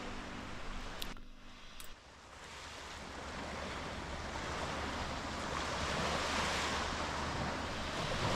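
Sea waves on a beach of sand at the waterline with pebbles further back on the Costa de Azahar in Spain, a continuous broad wash of surf rising slightly in strength, with wind noise and no talk.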